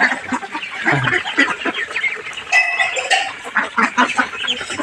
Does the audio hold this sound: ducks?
yes